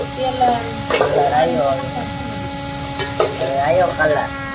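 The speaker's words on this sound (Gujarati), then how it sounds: "ડુંગળી જો અસલ મસ્ત જો તેલમાં ચડી ગઈ છે." Whole onions frying in oil in a cooking pot give a steady sizzle, with short scraping stirs and a pair of brief clatters heard close by.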